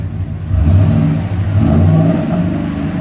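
A 2015 Ford F-250 Super Duty with a 6.2L V8 and Flowmaster 50 Series HD true dual exhaust revs up, a loud, steady deep engine roar that swells and holds, close to the tailpipes with no talking.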